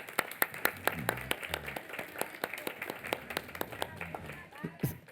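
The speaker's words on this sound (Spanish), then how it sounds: "Un aplauso para Santi, por favor" Audience applause for conductor Santi Rodríguez at a music talk, heard as a scattering of sharp individual claps over roughly five seconds, fairly close and moderately loud, with murmured voices underneath.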